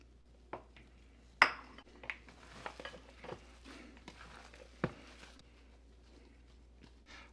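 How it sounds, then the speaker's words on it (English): Sausage meat being mixed with ham and Swiss cheese cubes in a bowl, heard as quiet scattered clinks, taps and soft squishing knocks against the dish, irregular and faint with no talking. "I'm gonna mix this till all those ham and cheese cubes are well incorporated"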